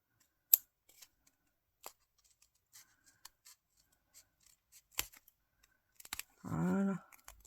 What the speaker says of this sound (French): On finit au ciseau parce que le carnet est vachement épais.